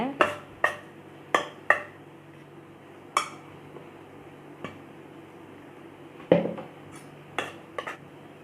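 A utensil mixes bread uthappam batter in a bowl, giving sharp, irregular clinks and taps against the bowl's side with a soft, wet stirring texture between them, close and clear with no talking.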